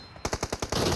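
Machine gun fire in the mobile shooter PUBG Mobile during a team deathmatch, a quick burst of about six rapid, evenly spaced shots followed by a sustained roar of gunfire, loud and close.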